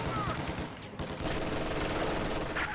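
Sustained machine gun and rifle fire crackles through a busy strategy game battle around a church, dense and steady with a commentator speaking over it.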